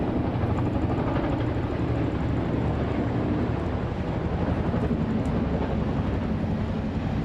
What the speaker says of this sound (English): 4 helicopters, led by the Chinook, a Griffin, a Puma,